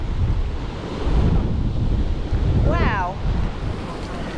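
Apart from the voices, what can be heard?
wind and sea waves at the coast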